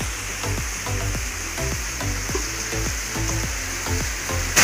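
Paragis grass, tied in knots so it fits, boils in a cooking pot, giving a steady bubbling and sizzling hiss with repeated soft popping bursts throughout, with no talking.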